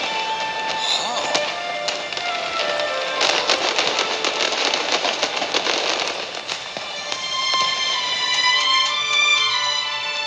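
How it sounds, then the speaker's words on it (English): Fireworks show in Genshin Impact, with dense crackling bursts and bright whistling tones filling the scene, loud and continuous, backed by music. "A fireworks show."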